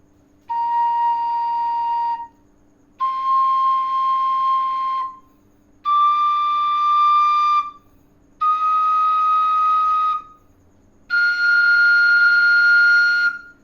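A Thai flute (khlui) plays five long, sustained high notes, each held about two seconds with short gaps, the pitch stepping upward, breathy and clear.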